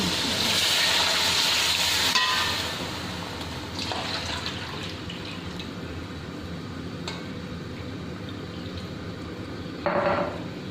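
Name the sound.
water poured into sizzling pot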